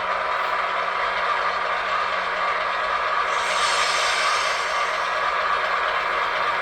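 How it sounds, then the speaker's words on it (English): Hiss of brake release and a steady startup rumble from a model Southern Pacific SP SD7R diesel locomotive with a LokSound v5 sound decoder, a continuous, even mechanical drone. "Nice brake release and momentum startup."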